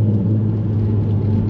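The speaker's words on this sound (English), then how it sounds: "This sounds really, really good on a downshift." Audi TT Mk1 with the 3.2 V6 engine on a downshift: a steady, loud low engine rumble with a deep drone held throughout, heard from inside the car with no speech.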